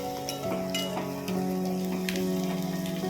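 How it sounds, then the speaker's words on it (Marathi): Onion frying in a pan for bitter gourd curry: a close, even sizzle with a few light stirring taps over a steady low humming tone, and no one speaking. "नंतर आता आपण त्यामध्ये कांदा ॲड करूयात"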